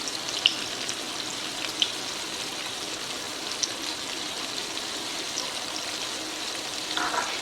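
Tomatoes and spices, including crushed pepper, frying in a pan make a continuous, even sizzle with a few sharp little pops scattered through it and no voices.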